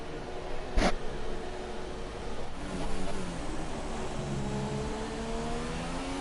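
Formula 3 race car engine at a track in Spain, a steady buzzing drone with a brief sharp burst early on and a slight dip in revs, held fairly constant with no one talking.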